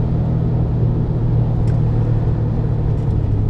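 An Alfa Romeo Giulia Quadrifoglio driven on a track gives a steady, loud low engine rumble heard from inside the car, constant throughout with no speech.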